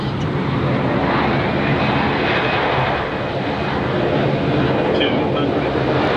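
A Boeing 777F freighter lands at Atlanta, heard from inside the cockpit as a steady, loud, broadband roar of engines and rushing air that holds evenly throughout with no clear talk.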